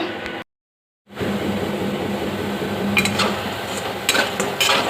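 An electric fan whirs steadily in a hot home kitchen, a constant airy hum that drops out for a moment and then returns. A few light clinks of dishes and utensils sound near the end.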